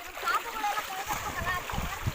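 Water splashes and sloshes in a river as someone bathing ducks under and comes up, dipping repeatedly, with a voice faintly audible underneath.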